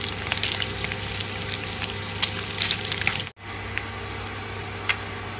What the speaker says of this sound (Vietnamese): Mình sẽ chiên một lúc cho mỡ ở trong thịt này nó ra bớt đi nha.